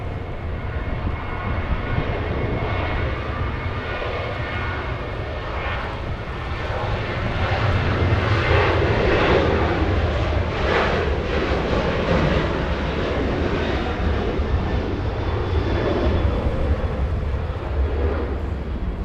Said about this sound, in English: Southwest Airlines getting a move on,